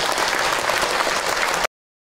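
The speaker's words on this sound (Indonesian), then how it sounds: "Tepuk tangan dong buat ibu" Steady, dense applause from a studio audience at an Islamic religious talk show, loud and continuous before cutting off abruptly.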